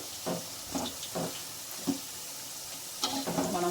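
Pakoda made from raw drumstick leaves and jowar flour fries in hot oil over a steady sizzle, broken by several scraping stirring bursts, with no one talking.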